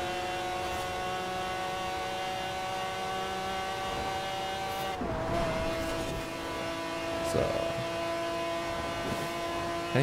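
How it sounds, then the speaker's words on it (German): Forza Horizon 4 car held at full throttle, a steady high engine drone with a brief pitch dip midway as it shifts, then climbing again, loud and continuous with no talking. "Oh, ich kann sogar sehr gut Vollgas fahren."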